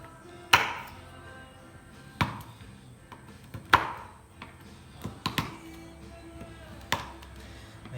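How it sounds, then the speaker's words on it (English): A knife chops through dark chocolate on a cutting board in several sharp, separate whacks at irregular intervals, close and fairly loud against a quiet room. "So we're going to chop up the dark chocolate into smaller pieces"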